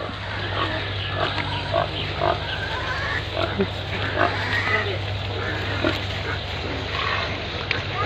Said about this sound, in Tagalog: may babuyan pa pala si Renz dito eh